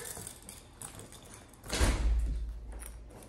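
A door swings open in a home as someone walks in, a low thud-like rush and rattle rising midway and lingering near, with faint room sounds before it and no talk.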